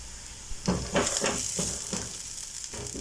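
Onions frying in a pan while a smoky stew cooks, giving a steady close sizzle with a few stirring scrapes and clatters near the start.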